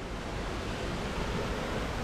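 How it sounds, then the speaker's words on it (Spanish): Los Huenchos waterfall near Calvillo, Aguascalientes pours in a steady, broadband rush of falling water that stays even and uninterrupted, with no voices present. "Déjenme les muestro aquí un poco de aquí de la cascada"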